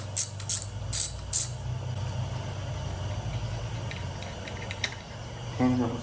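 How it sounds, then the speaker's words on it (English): Ratcheting clicks and metallic tool mechanism sounds from loosening a hose clamp in the engine bay of a Subaru STI during a valve cover gasket job, several short bursts over a steady low hum. "I'm gonna loosen up this hose clamp over here too."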